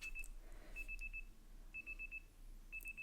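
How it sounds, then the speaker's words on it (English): Alarm in Pokemon Legends Z-A beeps in short repeated bursts of quick high tones, faint against a low hum, with no voices. "your alarm is going off."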